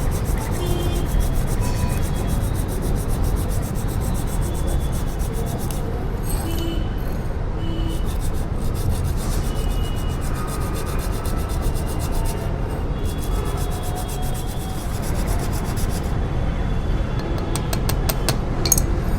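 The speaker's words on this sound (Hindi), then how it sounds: "ये सैंड पेपर है हमारे पास, रेगमाल भी बोला जाता है, तो इससे हम अच्छे से घिस लेंगे" Disc brake pads being rubbed by hand on sandpaper to clean them, a continuous close, loud rasping scrub that runs without pause for the whole stretch.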